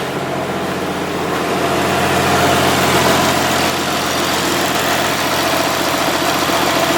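A repaired car engine idles at close range, a steady low rumble with even mechanical vibration running throughout, holding constant in level with no talk over it.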